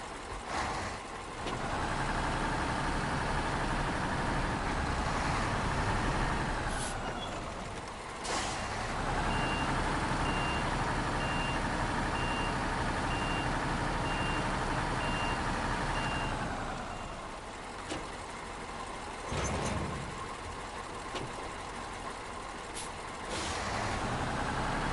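An oversized truck in a video game backs up with steady, insistent reversing beeps over a droning engine, broken by loud hissing bursts from the air brakes.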